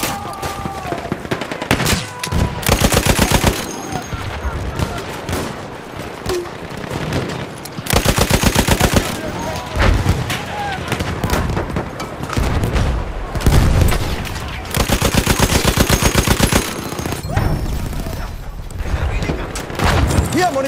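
Lewis Gun fire in the video game Battlefield 1 rattles off in long, loud automatic bursts, with other gunfire and booms from the match between them and occasional in-game voices mixed in.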